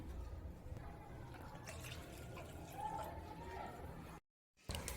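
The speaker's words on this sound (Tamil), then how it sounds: "இது கூட 2 கப் தண்ணி சேர்த்துக்கோங்க." Water is poured into a pan holding two cups of sugar, a soft, steady liquid trickle close by that stops abruptly near the end.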